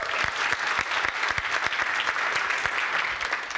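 A room of people at an interactive science-communication session claps together, brisk and fairly loud, with a few sharper individual claps standing out over the continuous applause.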